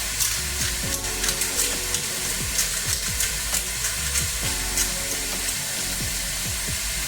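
Zucchini and carrot fry in a pan with a steady, close hiss and crackle of sizzling oil, punctuated by sharp pops and occasional stirring, unbroken throughout.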